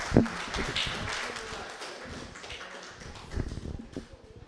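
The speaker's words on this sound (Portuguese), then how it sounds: "Uma salva de palmas." A seminar audience at a gathering about the 1984 Guariba sugarcane workers' strike breaks into a round of applause, a steady wash of clapping sustained across the moment with a sharper burst at the start.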